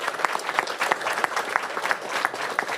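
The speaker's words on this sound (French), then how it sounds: "Je pense qu'on leur doit une bonne main d'applaudissements à eux aussi pour le travail qu'ils font." A room of attendees at a press conference on a national school meal program gives a short burst of steady, moderately loud applause, with individual claps standing out in the mix.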